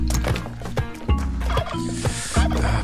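Turkeys gobble in the video game Spelunky 2, a loud run of repeated rattling gobbles close up, heard alone without any voices.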